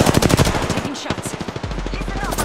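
Rapid automatic gunfire in a shooter video game, loud and close, with dense repeated shots, brief pauses and a voice talking over the bursts.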